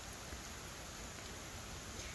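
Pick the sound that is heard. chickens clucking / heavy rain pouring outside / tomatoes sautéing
heavy rain pouring outside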